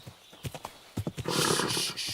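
Horse hooves clip-clop in uneven beats, then a loud whinny bursts in close by, in the medieval video game Kingdom Come.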